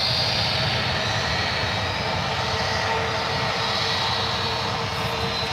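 An airliner rolls for takeoff on runway 1 left at San Francisco International, its engines a steady, loud broadband roar that holds evenly throughout with no voices.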